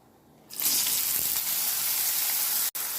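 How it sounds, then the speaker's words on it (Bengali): Eggplant pieces drop into hot oil and burst into a loud, steady sizzle that continues close and constant, with a brief dip near the end. "প্রথমে কেটে রাখা বেগুনগুলো ভেজে নেব আগে।"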